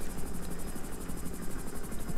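A helicopter in the FiveM mod of GTA V hums with a steady, fast rotor chop and buzzing engine drone, continuous and moderately loud for a couple of seconds.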